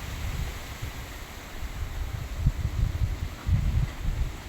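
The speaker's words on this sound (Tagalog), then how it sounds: "Grabe ang lakas ng hangin guys" Strong wind blows during a storm strong enough to knock over banana plants. It comes as a continuous, gusting low roar that buffets the microphone, with rumbling surges rising and falling.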